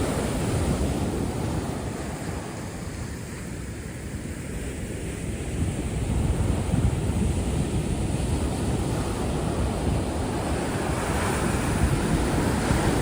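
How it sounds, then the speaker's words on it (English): Ocean waves wash steadily onto Bang Tao beach in Phuket, Thailand, a continuous broadband surf roar with gentle swells in loudness and some wind noise on the microphone, with no voices. "waves and the sound of waves is soothing out my annoying voice."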